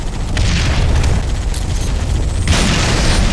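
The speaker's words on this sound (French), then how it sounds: "Pendant qu'en bas Master croise ses grenades." Grenade explosions in a video game, with a loud, continuous rumbling blast noise and heavier bursts near the start and again toward the end, with no talk.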